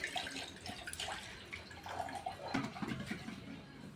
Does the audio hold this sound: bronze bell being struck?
no